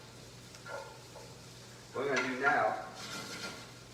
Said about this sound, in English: If you can hear that sizzle when I stir it, it's absorbing some more of the fat from the guanciale.